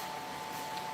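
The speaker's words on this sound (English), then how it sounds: "Had to adjust the angle of my hair dryer" A hair dryer used while finishing a mask runs as a steady, even whoosh with a constant faint whine, moderately quiet and unchanging throughout.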